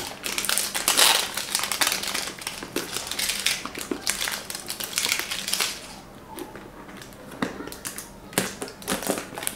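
Plastic wrapping of a Thai instant noodle cup being crinkled and torn open, a burst of loud close crackling and crushing followed by quieter sporadic rustles and clicks.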